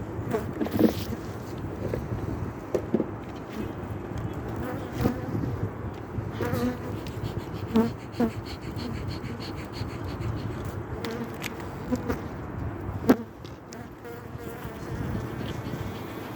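Honeybees buzz around an opened hive during a January inspection, a dense, continuous hum close to the microphone, with occasional light knocks from the frames being handled.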